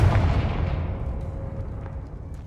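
The Confringo blasting curse is cast in Hogwarts Legacy: a single heavy boom that rumbles low and fades gradually over a couple of seconds, with a few faint game effects trailing behind.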